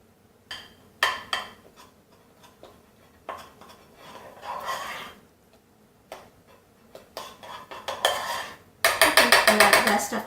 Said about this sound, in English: So now we're gonna mix it.